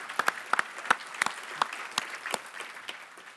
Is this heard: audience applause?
yes